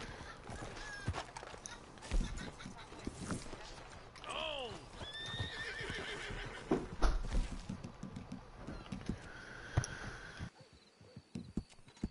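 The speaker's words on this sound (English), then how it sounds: "actually took me on my horse." A horse in the video game Red Dead Online whinnies loudly and gives a snort, with steady clip-clop hoofbeats going on underneath throughout.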